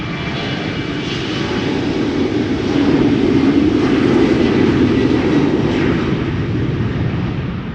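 A German Airways Embraer 190 flying for KLM takes off at Schiphol, its jet engines a broad steady roar from a distance that swells in the middle and slowly eases, with no voices.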